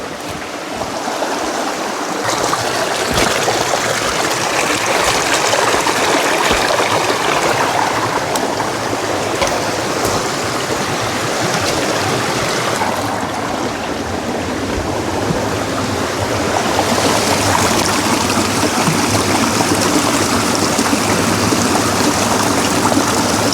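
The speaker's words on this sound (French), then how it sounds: "parcourir quelques kilomètres le long de ce magnifique cours d'eau" A countryside stream flows steadily and loudly, a continuous broad rush of water running alone with no voices throughout.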